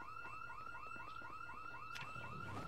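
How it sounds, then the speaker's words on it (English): A car alarm sounds in the zombie survival game Project Zomboid, near the player's base: a steady, rapidly repeating two-tone electronic whoop, moderately faint and distant, with a couple of clicks over it. "An alarm is going off right near your base."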